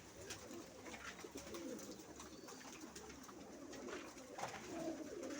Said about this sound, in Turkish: Her yer kuş.